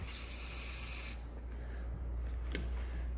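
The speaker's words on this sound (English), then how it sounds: "Guess we're going to try a little bit of brake clean" Brake cleaner hisses loudly from an aerosol can in a steady spray for about a second, aimed into the engine of a 1965 Chevy C10 on a 2006 Trailblazer SS chassis, then stops, leaving a low engine-bay hum and a couple of faint clicks.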